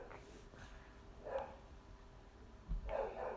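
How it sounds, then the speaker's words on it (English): A dog barks at a passing truck indoors, with a few short barks spaced apart, fairly faint and set against low background rumble. "do you have to bark at a truck?"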